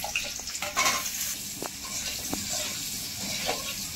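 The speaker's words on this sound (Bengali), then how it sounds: "কেটে ধুয়ে রাখা আলুগুলো তেলের মধ্যে দিয়ে ভেজে নেব।" Washed, cut potatoes frying in white oil in a wok give off a steady, close sizzling hiss that runs throughout, with a few small pops and crackles rising above it.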